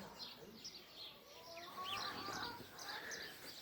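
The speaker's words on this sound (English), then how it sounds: "You can see they're chickens" Chickens cluck and cheep in short high calls scattered through the clip, close by, over a steady background hum.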